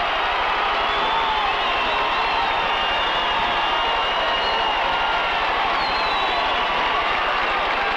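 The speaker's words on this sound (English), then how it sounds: "Listen to the crowd." Crowd at an indoor soccer playoff game between the Canton Invaders and Louisville Thunder in 1987, a sustained roar of cheering and noise filling an arena, dense and continuous, with no clear talk over it.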